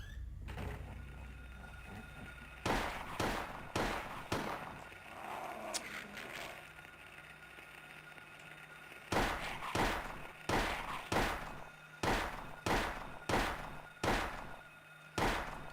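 Gunshots in a survival-horror video game: two clustered volleys of sharp, evenly spaced reports, each group of about four to six shots, separated by a quieter stretch of ambient game sound.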